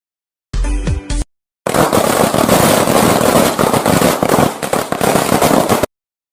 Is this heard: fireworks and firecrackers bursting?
yes